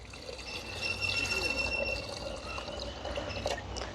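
Two small cupfuls of water are scooped and poured for cooking in an outdoor village kitchen. A continuous soft trickle of water runs throughout, moderately close, over a steady background.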